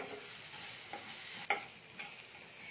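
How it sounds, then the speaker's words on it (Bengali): Quiet sizzling of ginger and chillies frying in oil, with a few soft clinks of a spoon stirring in the pan. "এবার এইটাকেও আমি একটু ভেজে নিচ্ছি তেলেতে"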